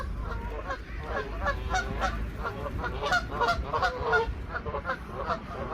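A flock of geese honks repeatedly and loudly in Worsley, overlapping calls in a busy, continuous chorus close by.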